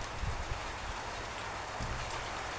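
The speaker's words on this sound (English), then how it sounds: "All right, the rain's starting to get a bit heavy now." Steady rain falls during a thunderstorm in a continuous hiss with occasional heavier low thumps of drops, no voices.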